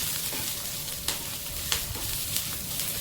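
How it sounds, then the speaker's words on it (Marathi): Masala roasts with onions in a pan, a constant close hiss and sizzle with a few soft stirring clicks spaced through it, alone without talk. "मग आता हा मसाला पण मी ह्या कांद्यासोबतच चांगला भाजून घेत आहे"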